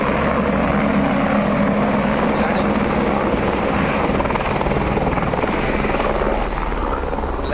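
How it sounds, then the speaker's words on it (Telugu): A loud, continuous engine roar from a landing aircraft drones steadily throughout, close and unbroken. "ఫ్లైట్ వస్తుంది చూడండి."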